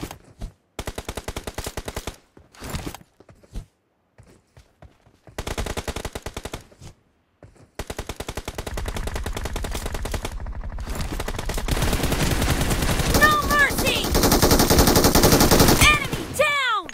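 Automatic gunfire in PUBG Mobile battle royale gameplay, sustained loud bursts of rapid shots broken by short pauses, merging into continuous dense firing with overlapping game effects.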